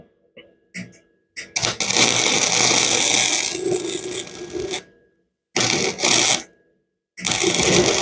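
Welding on a sheared riding mower deck bracket of thin metal: bursts of loud crackling, sizzling arc several seconds long separated by silent pauses, with a few small clicks before the first burst.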